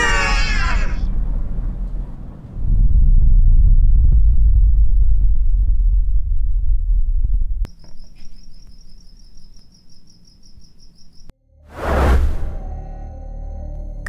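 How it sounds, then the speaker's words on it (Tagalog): Crickets chirp in a rainy night scene of a horror story drama, first briefly and clearly, then giving way to low rumbling whooshes, a thin buzzing tone and a sharp burst near the end. "Unti-unting bumalik ang huni ng kuliglig at mahihinang patak ng ulan."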